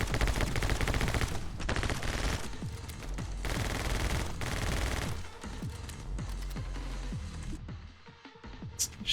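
Rapid, punchy shotgun blasts from the video game Evil West, a dense string of loud close shots fired in quick succession with echoing tails, with no talk.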